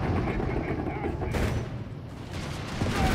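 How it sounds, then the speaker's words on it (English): Gunfire from a StuG D assault gun bombarding a mortar position in Company of Heroes 3, a dense continuous barrage of shots and booms in a busy battle soundscape, with a voice talking over it. "The Stug's gonna go straight for the mortar here, bombarding it from up high"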